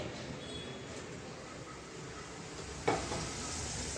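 Oil poured into a pan for egg pasta, a soft steady hiss and faint sizzle heating close by, with a sharper crackle rising near the end.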